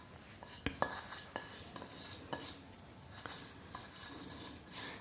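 Sugar and desiccated coconut being mixed with crushed biscuits in a bowl for a no-cook sweet, giving a steady gritty scraping and rubbing with sharp clicks of the spoon against the bowl, close and fairly quiet.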